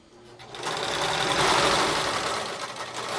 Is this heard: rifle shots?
no